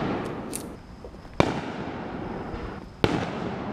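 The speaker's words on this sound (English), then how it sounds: "Little impromptu fireworks session." Fireworks set off in an impromptu backyard session, two sharp loud bangs about a second and a half apart over a steady crackling hiss and a faint whistle.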